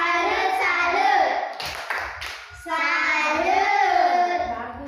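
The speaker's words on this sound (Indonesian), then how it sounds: "Tepuk salut" Children in a classroom clap in short rhythmic bursts for a salute, the claps low under loud group chanting voices, with a brief pause in the middle.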